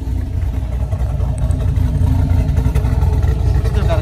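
A Dodge Ram 1500 pickup truck engine growls with a steady low rumble, close and fairly loud, while someone talks over it.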